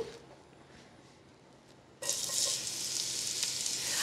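Chopped onion hitting hot vegetable oil in a casserole over medium-high heat: a soft hiss for two seconds, then a sudden loud, steady, close sizzle that carries on without a break and with no talking.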